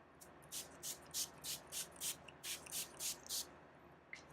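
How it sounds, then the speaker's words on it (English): A series of about ten short, airy bursts of makeup setting spray onto a face in a steady rhythm, close and fairly soft, with a faint click near the end. "The last thing I'm going to do is just spray with some setting spray."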